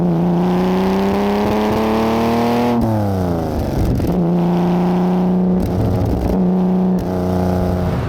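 A competition-spec Aston Martin DB4 classic car driving, its engine droning loud and close with rising and falling revs through gear changes, strong and continuous with no voices.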